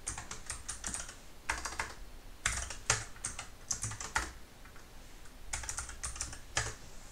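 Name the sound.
typing code on a computer keyboard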